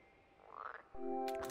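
A frog croaks in the video game Super Mario Odyssey, a short rising call followed by a louder buzzing croak, close and alone without talk.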